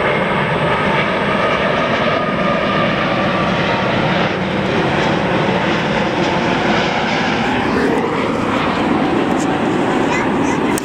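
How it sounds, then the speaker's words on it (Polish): A loud airplane engine drones overhead, its pitch shifting as it passes, while voices talk over the roar. "z firmy LOT to był samolot"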